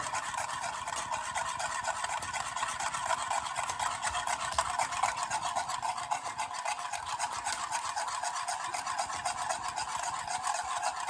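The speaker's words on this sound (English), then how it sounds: "now I'm just going to whisk and combine the cacao" Whisking a raw cacao mixture in a bowl gives a steady, continuous scraping and swishing throughout, close and moderately loud, with no talking.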